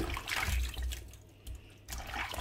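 Spinach is washed by hand in a bowl of water with added vinegar, producing close, soft sloshing and splashing that comes in short bursts with a brief quieter gap in the middle.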